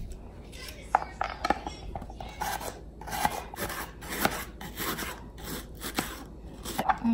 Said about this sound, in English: Just cut both ends, slice it into like two.